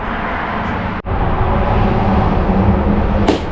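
Steady highway traffic noise rolls behind a storage unit as a dense, continuous roar of passing vehicles, loud and close, with one brief dip before it picks up again.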